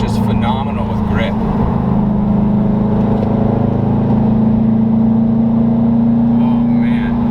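A 2017 Subaru WRX STI drives hard through corners, its engine a steady, loud drone with a sustained tone that holds and rises slightly, heard from inside the car with constant road noise throughout.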